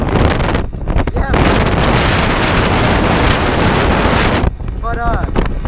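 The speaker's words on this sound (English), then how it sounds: "Oh my gosh, it's so windy." Strong desert wind buffets the microphone in loud, roaring gusts that never let up, with brief rumbling dips and a faint snatch of voice near the end.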